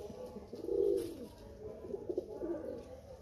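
Soft, low pigeon cooing repeats in a few murmuring phrases, fairly close, with no one talking.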